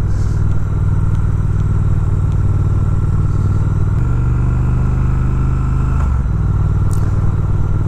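A 2019 Triumph Speed Twin twin-cylinder engine cruising at 2400 RPM in fourth gear around 50 km/h, giving a steady, close, low putting drone with slight shifts in pitch partway through and no voices.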